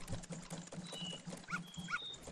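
A dog in Majora's Mask lets out a quick run of short, evenly spaced barks, joined by a couple of brief electronic chimes and tones from the game.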